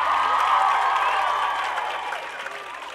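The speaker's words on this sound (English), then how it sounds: "Let's give another round of applause for Miss Roman." Sustained applause and cheering from a school pep rally crowd in a gym, a dense, steady wash of clapping that fades slightly toward the end.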